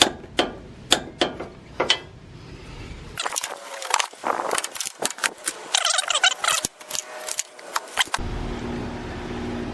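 A ratchet wrench clicks in short bursts while torquing a front end link on a 2000 Toyota 4Runner being fitted with a lift kit, with a busy stretch of rapid ratcheting and metallic clatter in a quiet garage.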